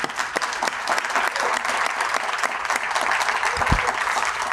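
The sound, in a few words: audience applause for Pat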